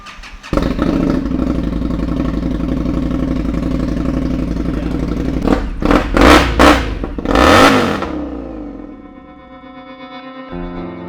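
A custom bobber motorcycle engine catches and settles into a loud, throbbing idle, then barks through several sharp revs and one longer rising rev before dropping back to a lower idle, close and alone.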